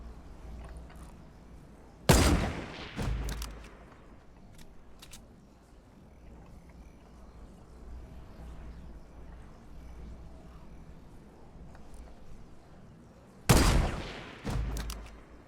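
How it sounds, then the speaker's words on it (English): Gunfire in the Fortnite battle royale game: two loud sharp bursts of shots, early and near the end, over a steady low rumble of game ambience with scattered faint pops between. "who is he shooting at?"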